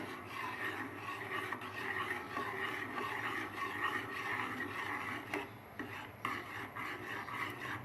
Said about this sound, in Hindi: चम्मच इसमें मुसलसल चलाना पड़ेगा क्योंकि ये इसमें लम्स ना बने और ये नीचे लगे ना, पैन में ना लगे।